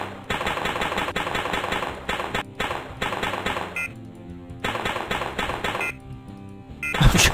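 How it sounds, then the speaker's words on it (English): Video game gunfire in Ed, Edd n Eddy: The Ed-Touchables, set in the Jawbreaker Mine, rattles in rapid volleys separated by short pauses, ending with a heavy thump. "I'm just shooting at the corner at this point."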